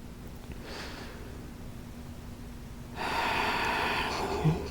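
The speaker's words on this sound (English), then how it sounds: "Deep breathing." Slow deep breaths during a seated chair yoga session: a faint inhale early on, then a longer, louder exhale of airy breath near the microphone, with no talking.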